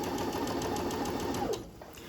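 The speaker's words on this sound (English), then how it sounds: "Now I'm just going to sew it around the long side and then both edges." Sewing machine stitching a satin-lined head scarf along its long side, a steady close whirring hum that runs evenly and then stops abruptly near the end, leaving quiet room tone.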